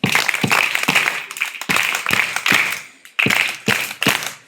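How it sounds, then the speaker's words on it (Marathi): Students in a school training session clap in quick, sharp bursts, several loud claps grouped in short rhythmic rounds with brief pauses between them, close by and without talk. "वैष्णवीसाठी 3 टाळ्या"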